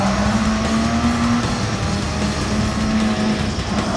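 Race car engine droning steadily in Gran Turismo on the Nürburgring, a sustained mid-pitched tone that dips and returns as gears shift, with continuous road and tire noise throughout.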